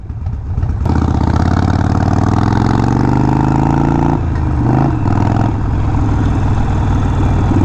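A Harley-Davidson Sportster motorcycle engine rumbles to life and holds a loud, close, throaty idle, with brief dips and surges in its steady beat partway through.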